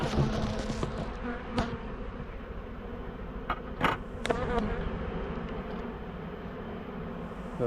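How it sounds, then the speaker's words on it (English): Honeybees buzz loudly and densely in an opened farm hive during a spring inspection, a continuous close swarm drone with a few sharp clicks and knocks from handling, and no talking. "Good sounds, good old buzzing. Tons of bees."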